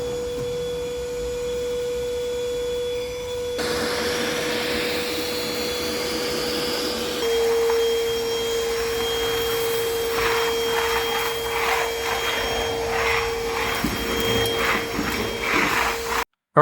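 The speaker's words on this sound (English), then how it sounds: "we'll vacuum this dry vacuum cleaner in action so you can see how effective it is" An Ozito 18V wet and dry vacuum cleaner runs in dry mode with a steady, close motor whine and a strong tonal hum. It grows louder and airier as it draws in debris, with fluctuating suction noise before it stops.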